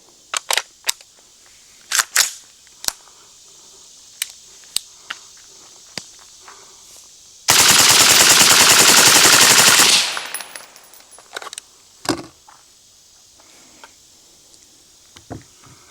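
A 5.56 rifle fires M855 rounds through a Rhodie 6 suppressor outdoors: a few scattered footsteps and clicks, then a loud, continuous rapid burst of about two and a half seconds, followed by scattered light knocks.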